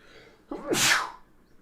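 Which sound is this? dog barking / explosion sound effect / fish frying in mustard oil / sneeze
sneeze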